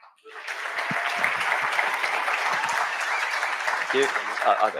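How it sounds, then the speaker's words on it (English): A conference crowd at a bitcoin event applauds a speaker being introduced, a steady wash of clapping that carries throughout, with a voice breaking in near the end. "please give a round of applause for Stephan Livera"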